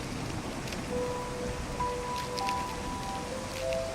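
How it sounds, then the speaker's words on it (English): Steady rain falls in the Bay of Islands near Paihia, New Zealand, a soft, even hiss of drops on surfaces, with faint whistle-like tones drifting through it and no speech. "Just happens to be raining."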